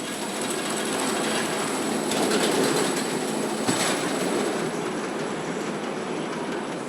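Bandit roller coaster train at Yomiuriland theme park in Japan rolls along its track with a steady loud rumble, rattling clatter and occasional wheel squeal throughout, no voices.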